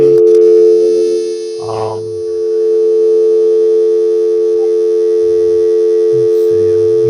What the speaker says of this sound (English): I'm going to make the first phone call today